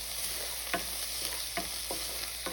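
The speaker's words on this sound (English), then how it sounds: "To this, I'm going to add in our onions, a little bit of ginger paste, and just give that a quick stir" Onions and ginger paste sizzle steadily in a hot pan, with several distinct scraping stirs breaking through the continuous frying hiss.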